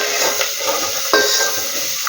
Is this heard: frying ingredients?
yes